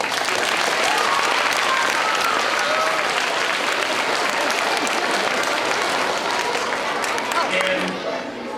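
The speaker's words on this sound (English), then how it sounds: "Let's give them a round of applause." Loud, sustained applause from a large crowd of children and adults at an elementary school spirit assembly, steady clapping filling the hall for about eight seconds before starting to fade.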